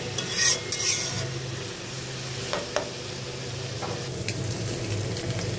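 Meat frying in a pan while being stirred, a steady low sizzle broken by a few sharp scrapes and clinks of the utensil against the pan, with no voices.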